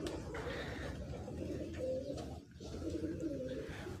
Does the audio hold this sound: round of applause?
no